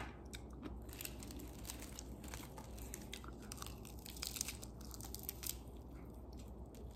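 Close crunchy chewing and biting of food, with a steady stream of crisp crackles and snaps over a low background and no talking.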